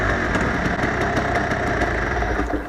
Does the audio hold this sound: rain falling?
no